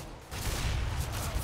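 Gunfire crackles in a Counter-Strike: Global Offensive match, a dense burst of overlapping shots that swells after a brief lull, moderately loud with no speech.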